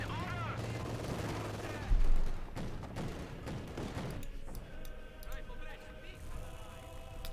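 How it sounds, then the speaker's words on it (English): Heavy .50 caliber machine gun fire in Company of Heroes 2 battle, a burst of rapid gunshots with a thudding boom near two seconds, mixed with other battlefield noise under ongoing commentary. "immediately suffering intense damage here from the 50 caliber machine gun there"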